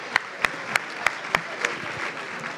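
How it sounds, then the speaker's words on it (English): Audience applause at a congress session: a scattered round of clapping in a hall, with several sharp louder claps standing out over softer background clapping, moderately near. "Big round of applause for her."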